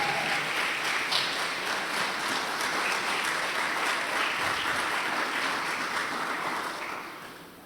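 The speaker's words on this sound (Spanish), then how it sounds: "dale un aplauso grande a Él" Congregation at a church Bible study giving a big round of applause, steady dense clapping held loud for several seconds before tapering off at the end.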